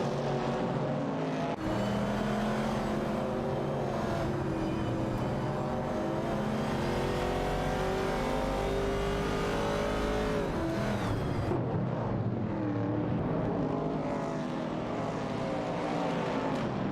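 Classic Pontiac Firebird race cars, 1968 and 1970 models, battle in an AI-driven race, their engines a continuous loud roar that rises and falls with revving and acceleration and briefly dips partway through.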